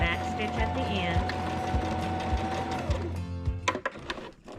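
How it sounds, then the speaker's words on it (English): A sewing machine stitches fabric for a dog bandanna with a steady whirring drone and regular needle thumps, then stops, followed by a few clicks and fabric handling noises close by. "Raise your needle. Turn it, and we're going to go up the other side. Backstitch at the end."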